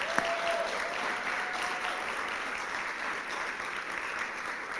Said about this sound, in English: So how about a big round of applause for Missy Staten?